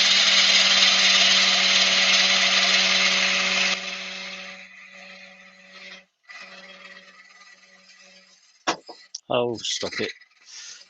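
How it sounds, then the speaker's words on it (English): A lathe doing multi-axis spindle turning runs loud and steady with a buzzing, rasping drone for about four seconds, then drops to a quieter hum with scattered clatter, and a voice speaks briefly near the end. "Obviously the lathe is just shaking a little bit and everything's falling off it."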